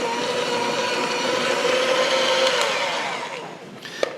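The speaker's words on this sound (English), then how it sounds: "We're just gonna go ahead and whisk it up until it's got that light, fluffy look." An electric stand mixer whisks butter and sugar into a light, fluffy cake batter, a steady loud motor whine that runs continuously, then winds down near the end with a brief clink.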